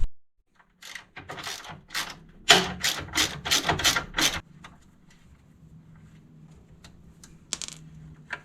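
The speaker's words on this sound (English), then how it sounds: "I'm going to have to get a wrench on that side and hold it down while I loosen it up" Hand wrench working a nut loose on a Bosman front bumper for a Honda Talon, with a quick burst of sharp ratcheting clicks, then scattered faint metallic ticks in a quiet space.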